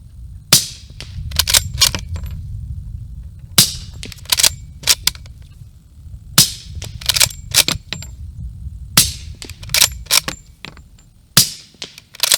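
Gunshots from a home-built .45 ACP rifle kit fired outdoors at a shooting range: sharp, loud reports in short clustered groups of two to four shots, separated by brief pauses over quiet background.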